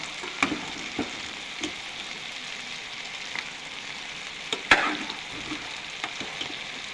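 Chicken pieces coated in yogurt and chili powder sizzle in a pan with turmeric, cashew and poppy seed paste, cumin and coriander powder, a steady fry broken by scattered sharp crackles and stirring clatters, close by, with no voices.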